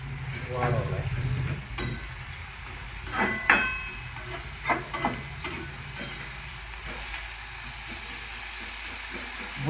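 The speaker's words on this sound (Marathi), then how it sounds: "गॅस वाढवलाय थोडा मस्त पैकी खमंग असा कांदा टमाटा भाजू घ्यायचा" Onion and tomato sizzle in a pan on a raised gas flame for Marathi-style egg bhurji, a steady frying hiss broken by several clacks of a spatula stirring against the pan.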